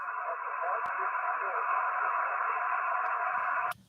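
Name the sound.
amateur radio noise with very faint park-to-park station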